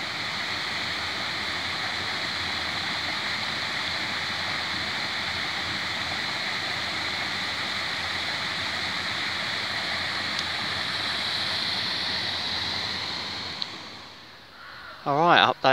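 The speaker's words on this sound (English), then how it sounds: "Lovely sound of the water." Water of the River Gipping rushes steadily nearby, a continuous splashing flow like a weir or fast river, fading slightly near the end.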